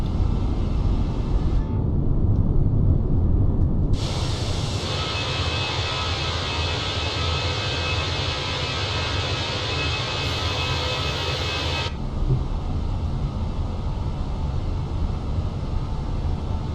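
Airbus A320 takeoff and climb in a flight simulator, a steady roaring jet-engine drone with a brighter, louder high-pitched whine swelling in the middle section before easing back, no talking.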